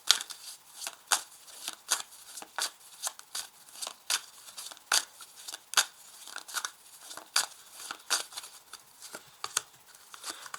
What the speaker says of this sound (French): Je tire ici 4 cartes.